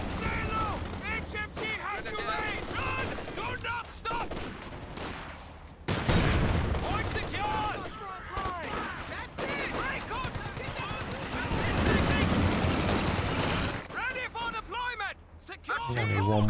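MG34 and .50 cal machine guns firing in a Company of Heroes 2 battle, repeated rattling bursts and booms packed under near-constant voices.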